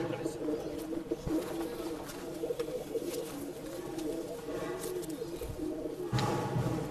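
Pigeons at a pigeon sale in Bangalore coo in low, throaty rolls throughout, with fainter chirps and background voices of people around the birds.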